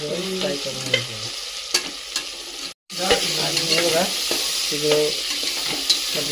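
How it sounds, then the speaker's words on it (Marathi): Tomatoes and spices for masale bhat frying and being stirred in a hot pan, a steady close sizzle with scraping stir strokes, broken once by a brief silent gap. "तर चांगलं चांगलं फ्राय होऊन द्यायचं नंतर टॉमॅटो वगैरे आणि जे मसाले आपण काढले होते"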